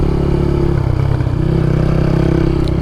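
A motorcycle engine drones steadily and loud while riding along a road, a continuous low rumble with some rattling and no talking.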